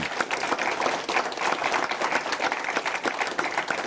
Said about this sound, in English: A round of applause, please, for Siobhan